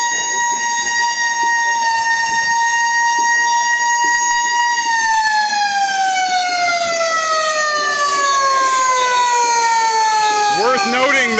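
A hand-operated siren machine wails loudly and close by at an anti-austerity May Day protest in Quebec, holding a steady pitch before sliding downward in a long continuous tone.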